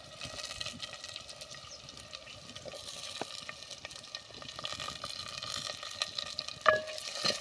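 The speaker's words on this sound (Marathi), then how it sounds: "परतून घेऊया." Soaked peas, potato and curry leaves sautéed in a pan, a quiet continuous sizzle with faint stirring scrapes and occasional small clicks, low and steady, no speech.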